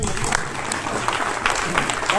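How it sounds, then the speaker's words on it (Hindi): Steady, dense clapping from an audience at a school quiz competition for an Eid-e-Milad function, continuous and fairly loud throughout, with a voice in the crowd. "तालियां बजाकर, तालियां जोरदार।"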